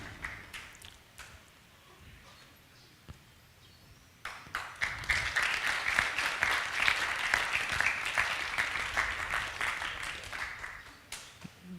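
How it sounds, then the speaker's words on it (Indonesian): Audience applause at a closing ceremony of a Balinese rebab workshop art performance, starting with scattered claps and swelling into sustained clapping from a crowd in a hall, moderately distant. "kita berikan aplaus, tepuk tangan yang meriah"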